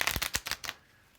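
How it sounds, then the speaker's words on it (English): Tarot cards being shuffled by hand, a quick run of crisp riffling bursts for about three-quarters of a second, then fading to near silence. "Let's shuffle these up."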